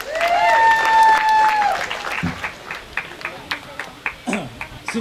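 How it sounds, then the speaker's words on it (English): An audience at a keynote speech applauds after a sharp whistle rings out, with scattered claps and cheers continuing at moderate loudness. "So give a big round of applause for Brandon."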